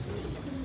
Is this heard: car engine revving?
no